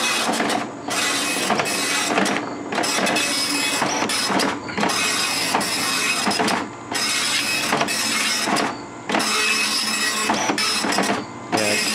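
An Okidata Pacemark 3410 nine-pin wide-format dot matrix printer runs its self-test, loud rapid buzzing print passes broken by short pauses for carriage returns and line feeds, all close and with no talking.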